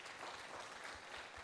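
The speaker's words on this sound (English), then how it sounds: "give a round of applause for the organizers" Steady applause from an audience at the opening of a university English competition, sustained and dense clapping throughout with no pauses.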